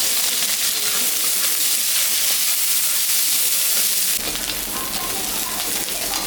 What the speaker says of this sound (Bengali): তারপরে পেঁয়াজটা দিয়ে দিলাম।